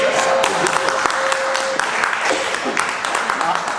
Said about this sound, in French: Mais acclamons pour ton cœur.